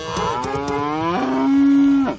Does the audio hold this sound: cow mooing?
yes